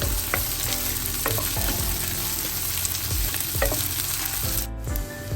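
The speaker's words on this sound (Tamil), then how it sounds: "பச்சை மிளகாய் சேர்க்க போறேன்." Green chillies frying with curry leaves in a pan, a steady loud sizzle broken by stirring scrapes and clinks throughout, with no talking.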